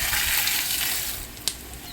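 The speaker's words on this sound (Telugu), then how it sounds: "తర్వాత తాలింపు గింజలు వేస్తున్నా" Mustard and other tempering seeds hit hot oil for rice-semolina upma, giving a steady broadband sizzle that fades slightly near the end, with one sharp crackle or pop partway through.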